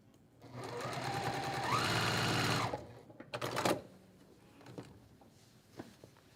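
Sewing machine stitching a quilt block, running in a fast steady whir for about two seconds, then a short burst of stitches and light handling clicks, close and alone.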